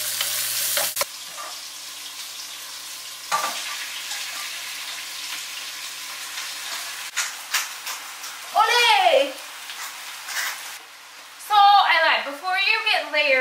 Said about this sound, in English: Okay, so we have our onions softened, we're going to add our vegetables.